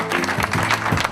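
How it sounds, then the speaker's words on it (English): A brief patch of steady clapping from an awards-night audience for winner Grace, dense and even throughout. "Let's give Grace a round of applause."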